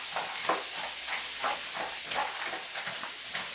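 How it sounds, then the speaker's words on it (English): Nuts toasting in melted butter in a pan, sending up a steady, close sizzle and hiss with small crackling pops throughout. "The nuts as they were toasting, and now the butter's going with it."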